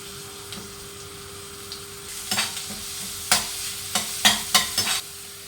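Cumin, chopped garlic, onion and green chilli fry in coconut oil under a steady low sizzle, broken by a series of sharp spatula scrapes and stirring strokes against the pan, close and without talk.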